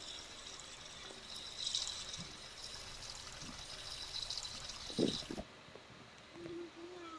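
Water pouring and splashing during a bath, a faint steady trickle with a few louder splashes and dribbles close by, no talk.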